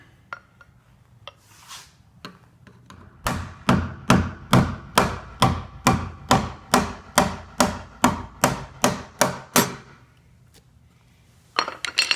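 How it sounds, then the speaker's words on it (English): A steady series of about twenty sharp metallic taps, evenly spaced and fairly loud, a hammer striking a flathead screwdriver against a Pontiac Fiero fuel pump ring, with a few quieter clicks before and after. "just take a hammer, flathead screwdriver, and lightly tap it in order to loosen that"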